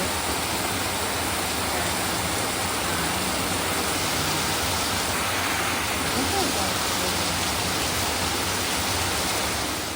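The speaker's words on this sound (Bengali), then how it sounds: "প্রচুর বৃষ্টি, প্রচুর।" Heavy rain pouring down in a dense, unbroken roar that stays loud and even throughout, with no clear voices above it.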